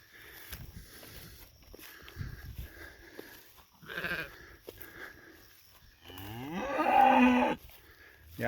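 Several cattle moo on a dry, drought-stricken farm on a damp morning, with a few brief calls early on and a loud, drawn-out bellow near the end, plus scattered footsteps and rustling between calls.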